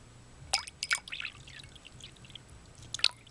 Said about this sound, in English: Give you a little more water.